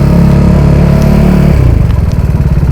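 A motorcycle engine idles loudly up close in cold weather, a steady throbbing chug that shifts pitch partway through, with a faint repeated metallic tinging noise coming from the engine.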